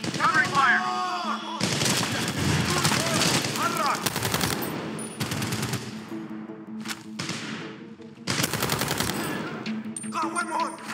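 Sustained gunfire from Medal of Honor Warfighter, loud bursts of automatic fire and heavy shots crackling in repeated volleys across the scene, with battlefield voices calling out between the shots.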